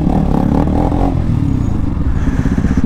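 A Bajaj Dominar motorcycle ridden on a road in Chandigarh gives a loud, close engine drone with wind rush and some clattering, running steadily throughout.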